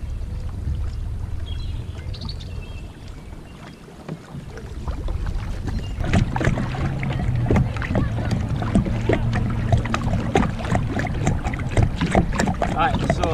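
An Eddyline Caribbean 14 kayak being paddled on open water, with soft splashing strokes and steady wind noise on the microphone, building louder midway as a person talks over it.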